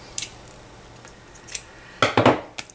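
Scissors trim a length of ribbon on a treat bag bookmark, making a few crisp, close snips: single cuts at first, then a quick cluster of sharper snips near the end.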